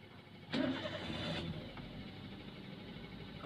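Car engine cranking and catching during a driving lesson, a broadband burst of starter and ignition lasting about a second, then settling into a steady low idle rumble close by.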